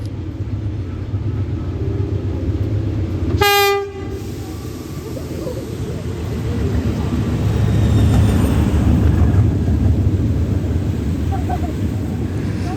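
A Thai diesel locomotive-hauled train, GEA number 4529, rumbles steadily past at Chiang Rak station with a loud horn blast early on, the heavy rolling noise building and continuing to the end.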